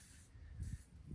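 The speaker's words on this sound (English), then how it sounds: "spray some WD-40 on these chains" WD-40 is sprayed in two short hissing bursts onto stiff chains on a Massey Ferguson MF204 forklift, faint and close, with a low rumble beneath.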